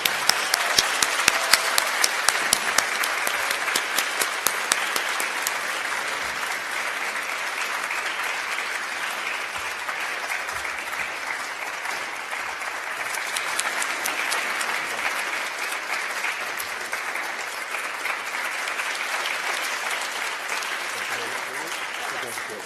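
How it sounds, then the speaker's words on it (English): An audience at a university international education distinguished service awards ceremony claps in sustained, dense applause for the full stretch, loudest in the opening seconds and then holding steady. "Let's give her a round of applause."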